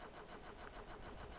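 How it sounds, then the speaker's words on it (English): A boat engine in the Stormworks video game runs as a steady mid-pitched mechanical drone with a faint regular pulse, close and continuous with no voices. "Like this, turn the engine on."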